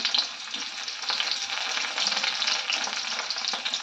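Small onions and dried red chillies fry in hot oil for a beans poriyal, giving a close, steady crackling sizzle with light stirring and no voices.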